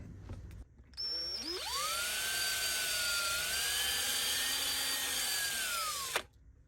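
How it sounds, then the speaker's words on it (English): A power drill whirs steadily for about five seconds, its motor pitch dipping slightly under load as it bores through plastic on a Toyota Tacoma door switch panel, then stops abruptly. "I'll take this plastic and I'll drill it out"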